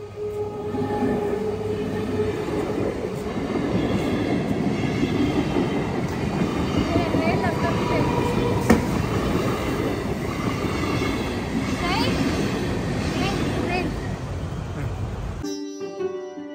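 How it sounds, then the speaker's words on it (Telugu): A metro train near Khairatabad rumbles past close by, a loud continuous roar of wheels on rail with squealing tones rising and falling throughout, ending abruptly. "సో వెనకాల ట్రైన్ వస్తుంది చూడండి"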